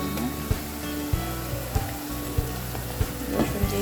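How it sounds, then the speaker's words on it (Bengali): Onions frying in a pan until reddish-brown, the base for a chicken curry, giving a constant loud sizzle with regular dull knocks about every half second. "ভালো করে পেঁয়াজগুলো লাল লাল করে ভেজে নিয়েছিলাম।"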